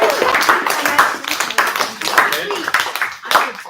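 Audience applause breaks out and continues as a steady, close patter of many hands clapping for several seconds, with voices mixed in.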